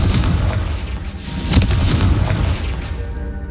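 A fiery Confringo spell explosion in Hogwarts Legacy, heard as a loud, close, rumbling boom that swells sharply near the middle and then trails off into a long roar.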